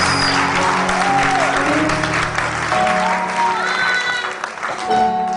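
Audience applause at KuumbaFest 2014, a community festival, sustained and steady throughout, with sustained musical tones and faint voices mixed in over the dense clapping.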